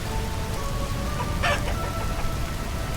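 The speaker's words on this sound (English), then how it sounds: "Okay, rooster." A rooster in a farmyard coop among hens calls out once in a short burst midway, heard over a constant broadband hiss like rain or wind.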